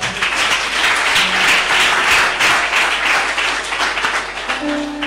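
A church congregation applauds to acclaim the Lord, a loud, sustained wash of many clapping hands with brief vocal sounds rising near the end.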